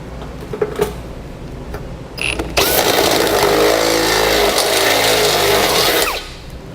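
A power drill enlarging a hole in the frame rail of a 2015 Ford Fiesta: brief buzzes of the motor first, then a loud sustained whining grind for several seconds that stops abruptly.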